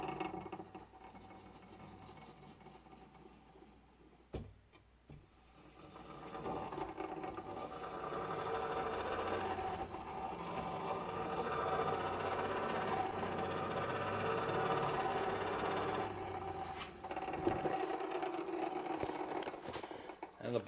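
Gear-driven fan of a Champion forge blower whirring steadily as the side crank on the gearbox is turned by hand, a continuous mechanical hum with light clicking that rises after a few seconds and holds fairly steady, alone and close up.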